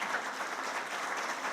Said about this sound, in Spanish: Le damos un aplauso también a todos ustedes.